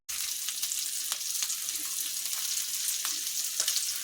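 Chillies frying with a ground masala of spices and garlic in a pan for potato fry, a bright steady sizzle close by, broken by occasional spatula taps and stirs.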